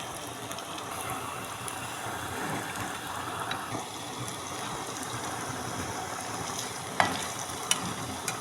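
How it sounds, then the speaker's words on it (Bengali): Potatoes sizzling steadily in a hot pan of oil, a soft continuous crackling hiss at low volume with a few faint clinks of a utensil near the end. "তাই আর কি আলুটা ভাজতেছি"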